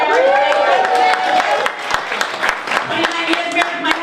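Audience at a comedy show breaks into applause and scattered cheering, a lively clapping crowd that fades slightly as a voice speaks over the tail end.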